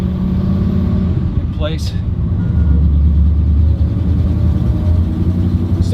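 A truck engine idles with a deep, steady exhaust rumble, close and loud, while a voice speaks briefly over it.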